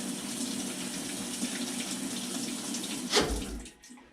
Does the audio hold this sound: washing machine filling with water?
yes